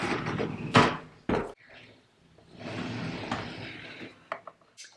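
A makeup drawer is pushed shut with a couple of sharp knocks and slides, followed by quieter rustling and handling of items in a bedroom vanity.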